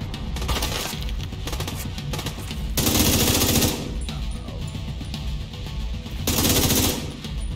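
Sustained automatic gunfire from a weapon in The Division 2, with long rapid bursts hammering loudly in the foreground and brief pauses between volleys, no talk over it.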